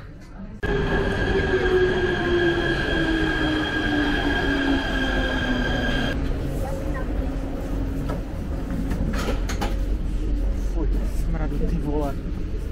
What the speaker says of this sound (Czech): Lení, co je na tom metru teďka zajímavý?